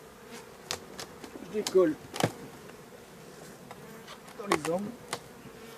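Honeybees buzz around hive frames as a beekeeper breaks apart wax built between them during a honey harvest. Several close buzzing passes swell and fade over a low hive hum, with a brief spoken phrase.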